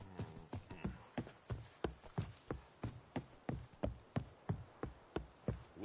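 Roach the horse galloping in The Witcher 3, a steady run of quick, close hoof clip-clops on hard ground, evenly paced across the whole stretch.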